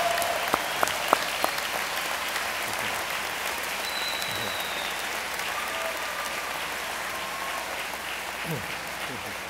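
Standing graduates at a law school commencement ceremony applaud their supporters in a large hall. The dense, sustained clapping holds steady for the full stretch, with a few sharper individual claps early on.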